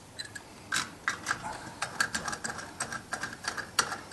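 A cistern lid is screwed down by hand, giving a series of small dry clicks and scraping ratchet-like ticks, close and fairly quiet, spaced irregularly.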